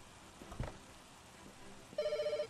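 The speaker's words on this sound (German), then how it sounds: "Ich muss mir schnell Telefon abnehmen." A telephone rings in the Pets Hotel video game, a clear electronic ring pattern entering near the end and repeating in rapid pulses after a brief thump and faint background noise.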